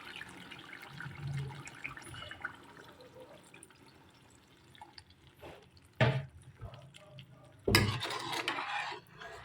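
Water poured into greens frying in a pan gives a sudden sizzling hiss in two loud bursts late on, after a quieter stretch of soft cooking and kitchen noise.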